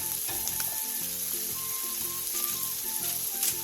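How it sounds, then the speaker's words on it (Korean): Thin-sliced pork belly rolls fry in a hot pan, giving off a loud, continuous, close sizzle with light stirring noises over faint background music, with no voices. "바닥이 노릇노릇하게 익으면 오른쪽으로 살짝 뒤집어 익혀주세요."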